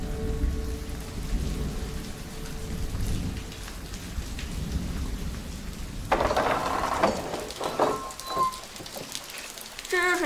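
Heavy rain pours steadily under rumbling thunder in a mountain area, with sharper cracks and crackling bursts breaking in during the second half, loud and continuous with no voices.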